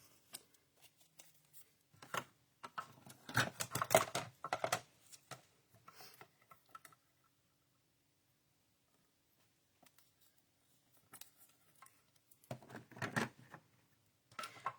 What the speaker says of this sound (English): And we'll take the die and cut the other one.